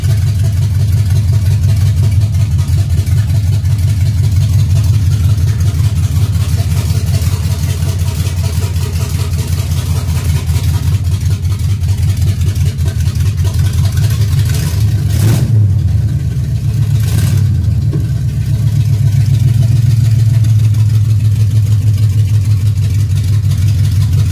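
A Chevy Caprice V8 idling with no throttle, a loud, steady low rumble close by that holds even throughout, broken by a couple of brief bumps near the middle.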